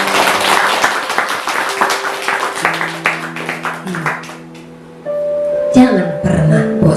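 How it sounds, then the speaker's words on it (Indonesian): A church congregation claps together during a lively worship service, scattered hand claps over strong band music and singing, fading as sustained keyboard tones take over near the end. "semua serentak tepuk tangan dulu"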